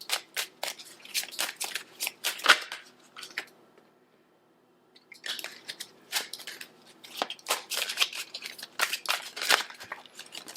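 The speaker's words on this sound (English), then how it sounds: "I was told to pull one more card" Tarot cards handled and pulled from a deck: dense bursts of crisp snapping, flicking and sliding, a short silent gap, then more rapid card rustling close to the mic with no speech.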